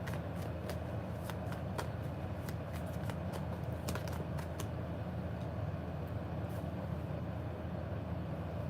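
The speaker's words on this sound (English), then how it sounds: "as I'm shuffling the cards" Tarot cards are shuffled close by, a run of crisp riffling flicks and snaps during the first few seconds that thins out, with a steady low hum underneath.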